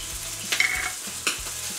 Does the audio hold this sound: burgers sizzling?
yes